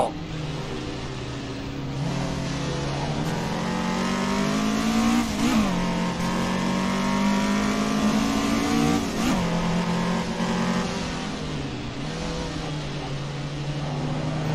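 BMW race car engine in the Assetto Corsa racing game, revving and shifting through gears with a continuous droning whine that climbs and dips repeatedly, loud and close, with other cars audible around it.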